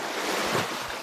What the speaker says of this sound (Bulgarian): Можете да видите колко Малички вълни започнаха да се появяват тук точно